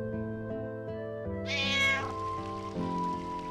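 A cat meows within the soundtrack of the video game Final Fantasy IX, a single clear, drawn-out meow rising above steady sustained music, loud and close, with no talking.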